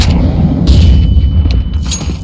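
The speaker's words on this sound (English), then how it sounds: "Grenade out." A grenade detonates in a Counter-Strike match at a Major tournament final, Vitality versus FaZe: a heavy low boom with rumbling gunfire-like bursts, loud and dense, continuing for about two seconds.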